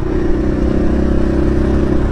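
A dirt bike engine runs loud and steady through wheelie practice, holding a continuous rumbling drone with no clear gaps or pauses.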